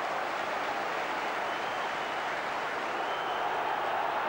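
A football stadium crowd at a 1990/91 Chelsea match applauds and murmurs after a near miss, a steady distant wash of clapping and noise that swells slightly toward the end.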